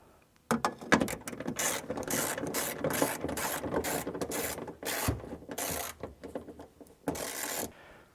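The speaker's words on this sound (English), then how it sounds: "now we got our 10mm deep on to get these nuts back in" A ratchet fitted with a 10mm deep socket tightens nuts on a Mitsubishi Evo 9 rear bumper, giving close, loud bursts of rapid clicking separated by short pauses.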